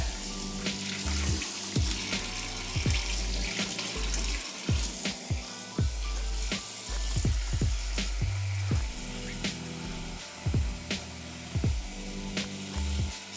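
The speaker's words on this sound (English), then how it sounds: "we're gonna top it off with some hot water." Hot water pours into a pot of sarma with a steady gushing, splashing flow, broken by sharp clinks and knocks of the pot and utensils, close and fairly loud with no talk.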